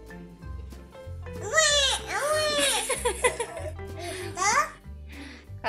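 A person imitates a baby crying in a wailing, sobbing voice with rising and falling cries. It runs for several seconds against a low steady background hum, with some giggly breaks between the cries.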